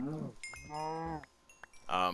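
Cows moo in a video game, several drawn-out lowing calls in quick succession, fairly loud and close.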